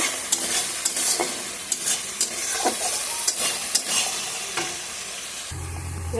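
Spice masala fries in oil with a constant crackling sizzle. Repeated scraping stirs and utensil taps land every second or so, and the sound briefly shifts near the end.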